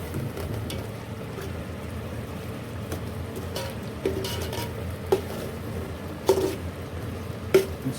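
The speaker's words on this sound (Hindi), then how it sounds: "मसाले को अच्छी तरह भून लेंगे।" Spices with turmeric being stirred and fried in a pan, a low continuous sizzle under scattered scraping and clinking of a spoon against the pan, with a few sharper knocks near the end.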